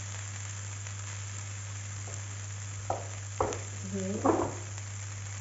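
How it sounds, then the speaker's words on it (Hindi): Chicken is dropped into a hot biryani pot and sizzles, a steady frying hiss over a low hum with a few clinks and stirring sounds, and a brief word spoken. "अब इसके अंदर मैं थोड़ा सा चिकन डालूंगी।"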